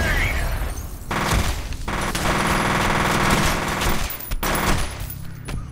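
Rapid automatic gunfire from the video game F.E.A.R. rattles almost continuously, with dense bursts, heavy booms and brief gaps between volleys.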